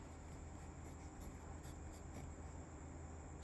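Faint soft scratching of writing on a board or paper during a math class, a steady low texture of strokes under a quiet room hum, with one brief tap at the end.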